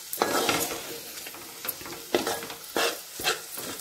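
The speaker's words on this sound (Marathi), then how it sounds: "फक्त हलवायचं व्यवस्थित, खाली लागून नाही द्यायचं।" A spoon scrapes and stirs gram flour and bell peppers as they roast in oil in a pan. Irregular strokes sound close over a soft, steady sizzle.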